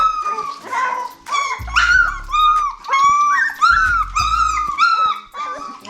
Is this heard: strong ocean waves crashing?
no